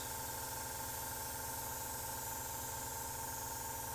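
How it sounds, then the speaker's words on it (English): A Meeden 0.5mm airbrush sprays a mist of paint with a close, steady hiss, joined by a droning compressor hum running constantly underneath. "An airbrush that, you know, you put paint in it and it works basically."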